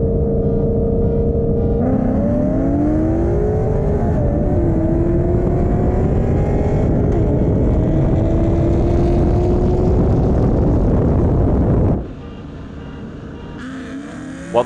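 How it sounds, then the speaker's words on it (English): A Ford Mustang with a 4.6 engine racing a bolt-on LS3 Camaro, with loud close engine roar climbing in pitch through gear changes for about twelve seconds before dropping off sharply to a lower idle rumble. "I set up a friendly race with a full bolt-on LS3 Camaro that made almost 450 wheel horsepower at the time"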